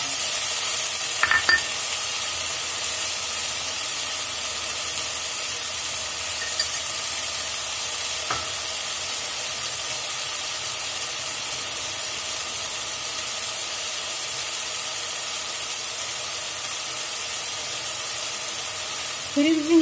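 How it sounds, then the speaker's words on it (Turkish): Two cloves of finely chopped garlic sizzle continuously in hot oil for celery soup, a steady frying hiss with a couple of faint utensil taps, ending with a brief voice. "İyice kavuralım."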